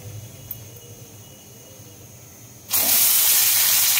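Oil and turmeric frying in a saucepan for bhindi masala: after a quiet stretch, a loud, steady hiss suddenly starts and holds without letting up, close up.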